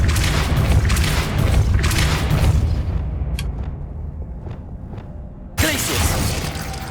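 A Depulso spell cast in the Hogwarts Legacy video game: a loud whooshing rumble that fades into quiet magical chimes, then a sudden sharp burst near the end.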